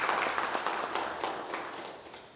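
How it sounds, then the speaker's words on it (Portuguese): A church congregation gives a round of applause during a service: many hands clapping together, fairly soft and a little distant, with a few sharper individual claps standing out as the sound slowly fades. "Uma salva de palmas"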